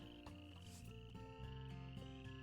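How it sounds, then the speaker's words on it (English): Frogs croak and crickets chirp on a starry night in the WolfQuest wolf game, a dense steady chorus of pulsing croaks and a high continuous insect trill, with no talking. "You can hear the crickets and the frogs."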